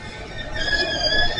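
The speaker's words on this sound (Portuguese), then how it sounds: "E aqui o trem vazio." Empty freight train rolling through a level crossing in Embu-Guaçu, São Paulo, a steady close rumble of wagons and wheels with a high metallic ringing tone over it.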